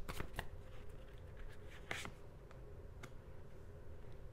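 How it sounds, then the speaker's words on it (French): Tarot cards are handled and one is laid down on a table, producing faint papery slaps and flicks, a few sharp taps close by in a quiet room. "je vais juste mettre la dernière carte et je vous en parle"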